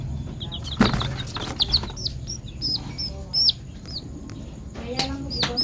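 Week-old chicks of the Brazilian Rapido and J45 breeds peep in high, repeated chirps close by, with a few fluttering wing sounds and muffled background noise.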